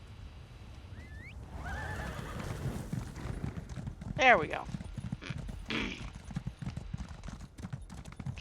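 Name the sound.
horse hooves clip-clopping in video game Companion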